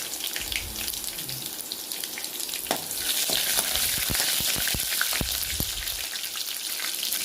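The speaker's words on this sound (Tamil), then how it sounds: "நசுக்கின பூண்டு சேர்த்துட்டு நல்லா வதக்கி விட்டுடலாம்" Crushed garlic sizzles and fries in hot oil in a pan for a spinach thokku, a continuous loud hiss with sharp crackling pops and spoon scrapes toward the end.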